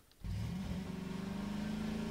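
An engine in Garry's Mod catches and revs up as a vehicle drives off, a steady close drone with a rising tone holding after a brief quiet start.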